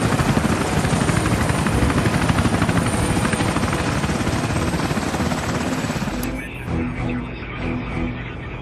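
An S-97 Raider X2 technology compound helicopter flying: a steady, loud rotor drone with dense rapid blade chop and turbine whine that continues throughout, dropping slightly in intensity near the end.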